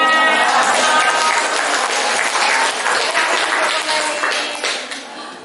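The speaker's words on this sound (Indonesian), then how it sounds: "Kasih tepuk tangan." A classroom audience of children and classmates claps for a group presentation, dense continuous applause that stays loud and slowly fades toward the end.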